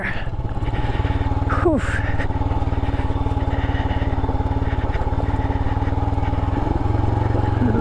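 Royal Enfield Himalayan motorcycle engine chugging close-up in low gear on a steep, rocky dirt trail, a steady loud thumping beat throughout, with a rider's brief exclamation over it.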